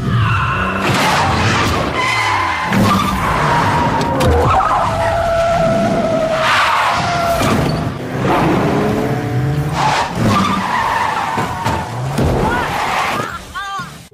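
Car tires skid across a road slicked with anhydrous calcium chloride in a Korean drama scene, with loud repeated screeching and engine noise under dramatic music, and voices speaking over it.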